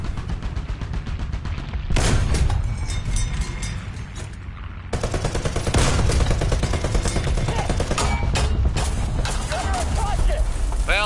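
Rapid cannon bursts from a Flakpanzer anti-aircraft vehicle in War Thunder, loud repeated volleys firing in clusters over engine rumble and battlefield noise, pausing briefly before resuming.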